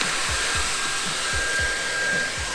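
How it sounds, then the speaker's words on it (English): A vacuum cleaner runs with a steady, loud whine while it cleans a plastic cabin tray from a BMW E36 318ti Compact. Rhythmic low scraping bumps come through as the nozzle moves back and forth. "modern vortex-enabled vacuuming"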